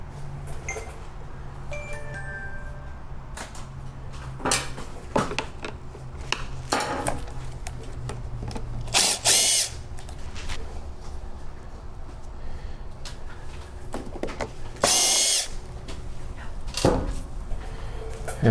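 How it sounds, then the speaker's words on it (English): Metallic clicks, scrapes and an occasional louder clatter as screws are taken out of the panel on a Generac GP3000i portable inverter generator, close up and intermittent over a low steady background, with no talking. "we got to take these screws out"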